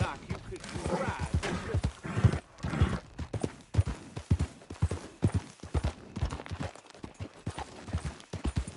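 Rhythmic hoof clip-clops from a horse in Red Dead Redemption II mingle with steady talking throughout, the hoofbeats close and fairly loud beneath the voices.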